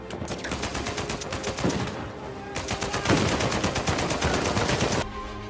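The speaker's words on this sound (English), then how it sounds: "And when you shoot with an AK-47 in Uncharted 4, it sounds like this." Rapid AK-47 rifle fire in Uncharted 4 rattles in two long bursts with a short gap, crisp repeated shots with echoing tails.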